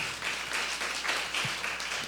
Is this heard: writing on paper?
no